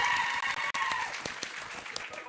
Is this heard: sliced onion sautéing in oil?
no